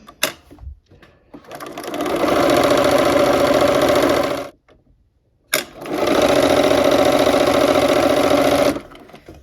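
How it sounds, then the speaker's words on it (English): A sewing machine stitches quilt stem blocks in two long steady runs of rapid mechanical whirring, close and loud, separated by a brief pause with a few clicks before and between. "We're going to go ahead and start sewing on these stem blocks."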